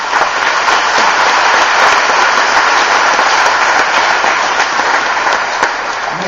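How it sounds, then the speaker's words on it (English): Steady, loud applause fills a high school graduation hall in Warsaw as an honor student is called up, a dense hiss of many hands clapping continuously without talk. "Applause is appropriate as I call each one"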